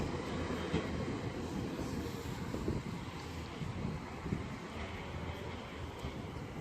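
Class 142 Pacer diesel train at Darlington on the East Coast Main Line, a continuous rumbling roll with rail noise and no flange squeal.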